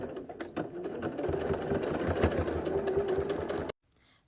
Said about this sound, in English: We're going to back stitch here and sew the next side.